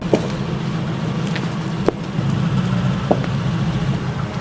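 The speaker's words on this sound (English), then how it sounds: "Just before her departure, a car suddenly appeared in front of her." A car pulls up and idles, its engine a low steady rumble with a few brief clicks and knocks over the top and no voices.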